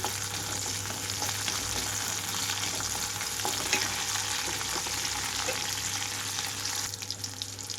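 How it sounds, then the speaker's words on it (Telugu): Ingredients for a radish chutney fry quietly in a pan, a steady faint sizzle with occasional light stirring scrapes and a low hum underneath, and no voices. "మధ్య మధ్యలో కదిలించుకుంటూ ఉంటున్నాను"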